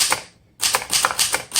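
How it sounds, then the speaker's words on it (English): A 1938 Remington Portable Deluxe typewriter is typed on close by: a quick run of crisp keystrokes, a short pause, then several more sharp strikes in a brisk, uneven rhythm. "the Remingtons have a very specific sound to them"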